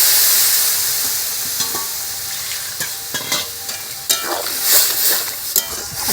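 Tamarind pulp goes onto fried crab in a hot pan during village-style cooking, a loud close sizzle that flares and settles, broken by scraping stirs and a few sharp spatters.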